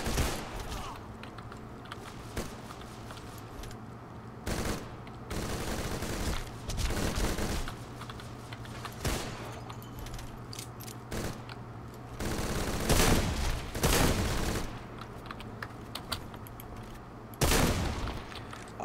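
Bursts of gunfire from World War I pistols crack through a Deadfall Adventures gunfight, with repeated loud clusters of shots broken by quieter gaps, alongside clicking and creaking game sounds.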